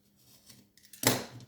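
Scissors cutting through card for a handmade card project: a quiet lead-in, then one sharp close snip near the end.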